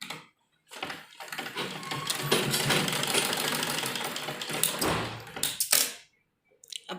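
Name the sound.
sewing machine stitching kurti fabric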